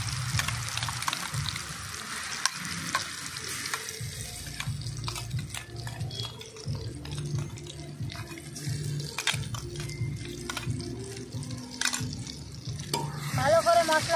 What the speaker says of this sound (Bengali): ভালো করে মশলা আমি কষিয়ে নেব